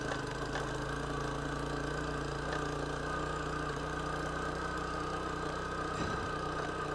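A motorcycle engine labors up a steep, rocky hill, a steady, low, humming drone that runs unbroken at an even level throughout, with no talking.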